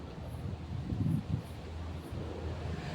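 Low, steady wind rumbles and buffets against the microphone outdoors in a garden, a soft continuous roar with slight gusts.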